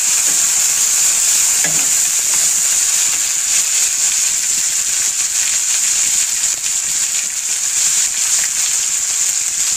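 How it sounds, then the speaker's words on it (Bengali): Vegetables fry in hot oil in a pan over a low gas flame while being gently stirred. A loud, continuous sizzle runs throughout, with occasional scraping from the stirring. "তেলটা গরম হয়ে গেছে, এবার গ্যাসটা আস্তে করে আমি সবজিগুলো সব দিয়ে দিলাম। এবার হালকা করে নাড়ি।"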